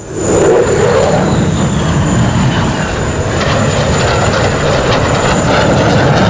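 A US Air Force fighter jet performing a solo display at the Dubai Airshow, with a loud, sustained roaring jet engine rumble and whine that stays steady and close throughout.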